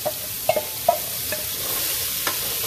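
Carrots, celery and onions sautéing in a pot for braised short ribs, a soft steady sizzle broken by a few sharp stirring and scraping knocks, close and alone.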